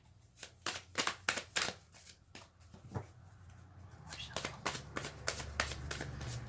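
Tarot cards are shuffled in quick riffling bursts, a dense run of crisp flutters and slaps up close, pausing briefly midway before resuming over a low steady hum.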